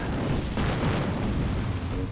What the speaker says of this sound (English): Let's see what happens after the Stukas hit them